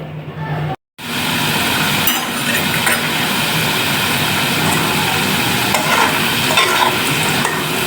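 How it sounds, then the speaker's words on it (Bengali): Potatoes fry until browned in a pan for a spiced chicken dish, giving a loud, continuous close-up sizzle with stirring scrapes and a brief break near the start. "আলুগুলা লাল লাল করে ভাজা নিছি"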